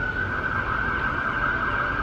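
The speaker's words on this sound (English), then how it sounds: "Here comes another fire truck, or ambulance, or police car." An emergency vehicle siren, a fire truck, ambulance or police car, wails outside with a steady high tone that holds at moderate volume for two seconds, heard from indoors with no talking.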